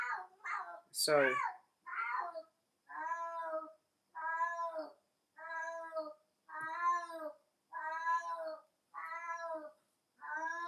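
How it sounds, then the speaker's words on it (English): Cat meowing over and over in a steady series of drawn-out, plaintive calls, close and fairly loud, with a brief spoken word near the start. "That cat is there by himself."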